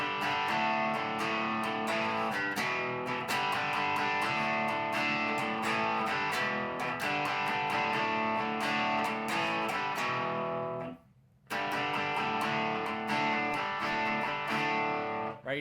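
Electric guitar strums chords from a song in a steady driving rhythm, letting them ring out, with one brief gap before the pattern resumes; played alone and fairly quiet.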